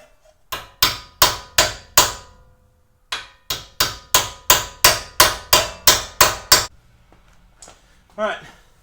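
Loud, close hammer blows strike a vehicle's tie rod while fixing death wobble on a heavy duty Synergy tie rod, two sharp ringing bursts of about five and nine metallic whacks in steady rhythm, then a short pause and a faint voice.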